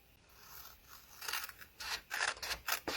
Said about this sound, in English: I'm going to take my shears, and I'm going to just cut along my scored line